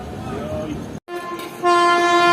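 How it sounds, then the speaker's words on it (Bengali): Loud rumble of the Howrah–Malda Town Intercity Express departing Bardhaman Junction, then after a brief cut a sustained train horn blares close by over the running noise. "আমাদের train Bardhaman junction rail station থেকে ছেড়ে দিল"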